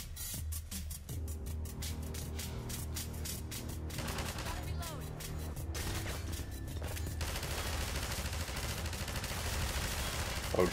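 Gunfire from the game Half-Life 2 rattles in rapid bursts with sharp cracks, set over a steady low hum and clattering game sounds that grow denser toward the end.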